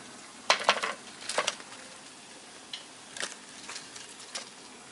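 Spinach keerai vadai fry in hot oil, giving crisp bursts of sizzling and a few pot or utensil knocks, loudest near the start and then in shorter flare-ups.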